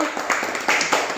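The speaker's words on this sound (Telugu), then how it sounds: "శ్రావణి క్లాప్స్ కొట్టండి అన్న, చక్కగా చేశాడు" Young children in a Grade 1 and 2 primary school classroom clap together in a few short, scattered bursts over a second, with a faint murmur of voices.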